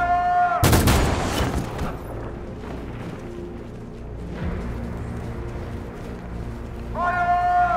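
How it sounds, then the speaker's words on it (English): Gunfire in the video game Detroit: Become Human, a sudden loud burst of shots near the start followed by a rumbling tense backdrop with voice-like tones and an echoing tail. "They're going to start shooting."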